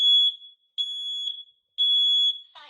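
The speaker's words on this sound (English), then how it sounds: "This is the loudest one in the house, so prepare yourself." Home smoke alarm sounding during a house inspection, three loud piercing shrill beeps in a steady repeating pattern, close by and alone.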